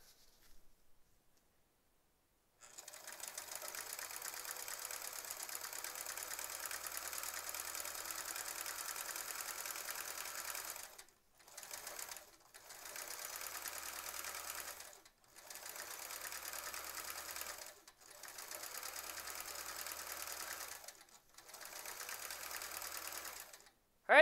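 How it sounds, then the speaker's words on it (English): A sewing machine stitches through layers of quilting fabric in close, steady bursts: one long continuous run followed by several shorter runs broken by brief pauses, with no voices. "we could actually trim this down to eight and a half inches right away if we wanted to, but I think we'll just keep, keep quilting"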